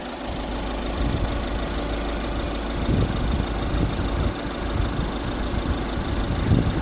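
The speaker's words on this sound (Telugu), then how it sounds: "ఇంజన్ చూసుకోవచ్చండి, ఎక్కడ అన్వాంటెడ్ సౌండ్ అనేది ఎక్కడ లేదు." A 2015 Volkswagen Vento Highline diesel engine idles close by with a steady, low, slightly knocking rumble that never changes pace.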